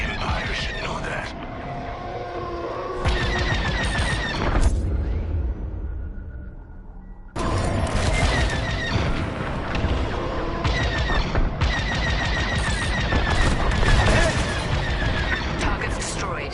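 Bursts of rapid gunfire and booming blasts hit space station turrets in a Star Wars style PS4 video game. Loud, sharp volleys come in several blocks, broken by a short quieter lull, with mechanical clatter and some speech.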